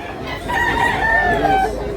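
A rooster crows once, fairly near, with a single sustained call at an outdoor chicken market in Tabunok, Cebu, over a low background murmur.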